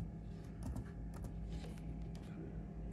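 Typing on a computer keyboard while fixing a Windows error, a short burst of soft close keystroke clicks over a steady low background hum.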